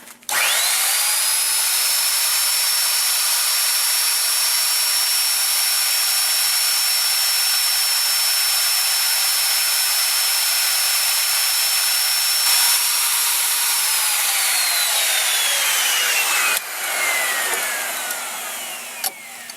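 A router cutting wood by hand while fitting a French door, a loud steady high-pitched whine held for about fifteen seconds before spinning down, close and alone without voices.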